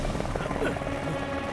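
A cartoon helicopter in a Motu Patlu animation hums with a steady, buzzing rotor drone that fills the short moment, with a faint voice under it.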